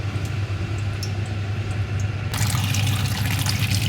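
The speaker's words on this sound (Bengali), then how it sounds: "আর এই থেকে পানিও তুলে নিচ্ছি, খাবার পানি" Drinking water poured from a container in a home kitchen, a steady trickling stream that grows fuller and brighter about halfway through, heard close with a low background hum and no talk.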